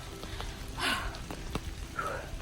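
Rain falls on an umbrella outdoors, a soft steady patter with scattered louder drops taps close overhead, faint and without talk.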